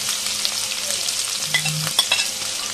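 Green chilies, bay leaf, onion paste, ginger paste and garlic paste sauté in hot oil for a pigeon and potato curry, giving a steady close sizzle with a few soft stirring scrapes and no talking.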